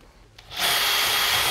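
Power drill with a spade bit boring a countersunk pilot hole in wood starts after a brief quiet moment and then whirs loudly and steadily, close up, with a rough cutting texture.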